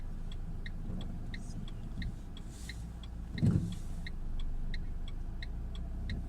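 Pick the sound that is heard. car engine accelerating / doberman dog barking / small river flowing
car engine accelerating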